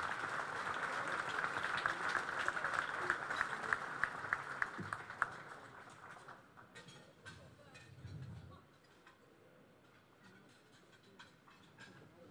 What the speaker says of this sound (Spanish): le solicitamos el aplauso a estas empresas